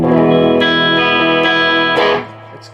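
An electric guitar chord rings out with a clean, bright tone, sustained and then restruck before fading, played up close.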